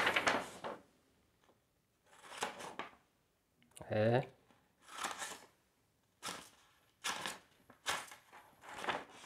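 Freshly sharpened bypass garden pruning shears snip through paper in a series of short crisp cuts, each a quick burst spaced a second or two apart, close and fairly loud with quiet gaps between.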